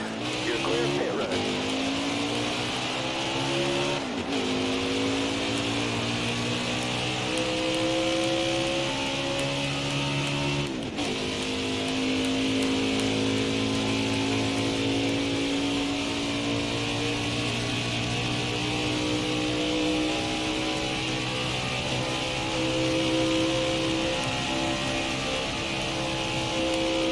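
Race car engine in NASCAR Heat 4 rolling down pit road, a steady loud drone with rising harmonic pitch through gear changes, continuous across the stretch with a couple of brief shifts, speech faintly underneath.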